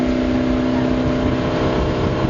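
A motorboat towing a tube holds a loud, steady engine drone with a strong constant pitch, close and uninterrupted.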